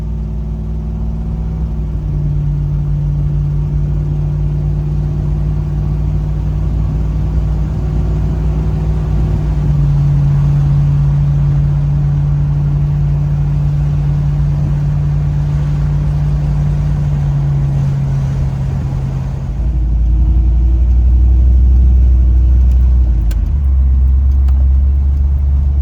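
An LS-swapped OBS Ford Bronco engine drones under load, its pitch climbing steadily through medium acceleration, then drops and settles into a deeper, louder rumble near the end, close and continuous with no talking.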